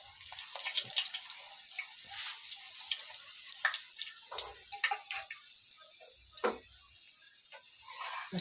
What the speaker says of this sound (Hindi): अब ये देखिए हम इस तरीके से घी के अंदर हम ऐसे ये डालेंगे